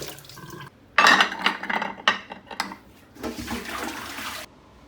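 Conch shells rinsed under running tap water: a steady splashing gush that starts abruptly, with brief clattering of shells against each other, then a softer stretch of flowing water before it cuts off.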